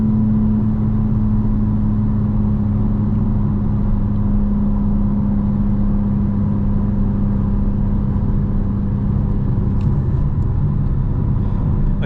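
Engine of a 2025 BMW M4 Competition xDrive with an XHP tune, in Sport Plus and four-wheel-drive sport mode, droning loud and steady from inside the car for the whole stretch, with no talk over it.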